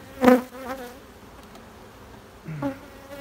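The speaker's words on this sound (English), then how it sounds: "There's bees everywhere." A busy hum of honeybees buzzing around a hive, a low droning swarm with individual insects swooping past close by, loudest at the start and near the end.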